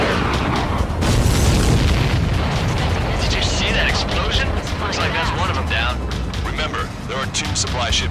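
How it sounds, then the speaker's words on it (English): A large explosion erupts as a downed enemy aircraft is destroyed in the jet combat game Ace Combat 7, a loud deep boom that rolls on into a sustained rumble of engine roar and battle noise, with radio voices talking over it. "Did you see that explosion? Looks like that's one of them down."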